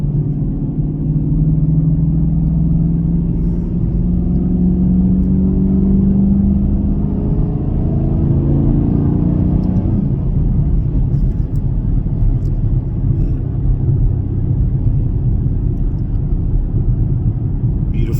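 A 2024 Chevrolet Camaro LT1 on Nitto tyres cruising on the road, with a loud, steady engine drone and tyre rumble from inside the cabin, a brief rise in pitch before easing off, and no talk.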